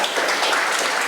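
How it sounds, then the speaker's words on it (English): A short burst of audience applause from a crowd at a legislative session on food policy, dense and steady clapping heard throughout. "I don't know why you're clapping"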